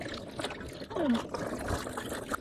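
Korean plums (maesil) being rinsed in water in a home kitchen, a soft running trickle and splashing that stays low and steady, with faint background noise throughout.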